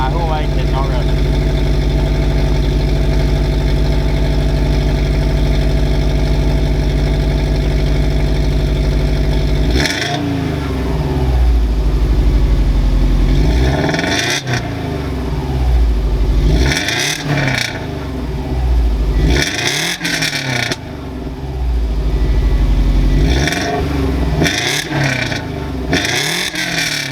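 A Subaru Forester fitted with a UEL header exhaust, first idling with a steady low rumble, then revved repeatedly in loud, deep bursts that rise and fall back to idle, heard up close.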